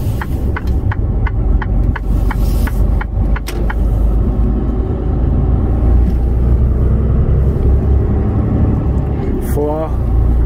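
A container truck rolls past at a truck stop, a steady low engine rumble that stays loud and close throughout, with occasional short clicks and a brief squeal near the end.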